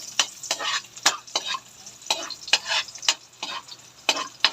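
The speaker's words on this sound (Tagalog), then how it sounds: "ilalagay na po yung bawang. Bawang, hahaluin po." Garlic fries in a hot pan while a spatula stirs it, a close crackling sizzle punctuated by a regular series of sharp scraping strokes against the metal, without any speech.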